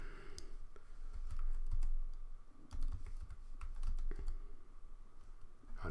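Fingers typing a file name on a computer keyboard, a close, steady patter of key clicks in short irregular runs, alone without speech.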